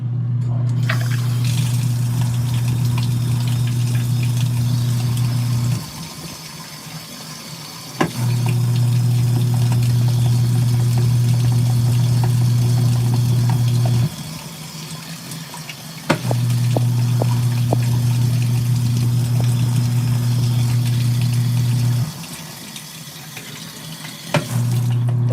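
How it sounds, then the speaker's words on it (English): An LG ThinQ MEGA washer spinning while filling with water, a loud, steady motor hum with rushing water that drops away and returns in several long cycles. "Then turn the water on while it's spinning."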